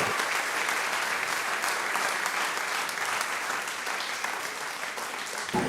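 Sustained, even applause from a large crowd at a village audio launch celebration, welcoming a child chosen to inaugurate the event, continuing without break at moderate distance.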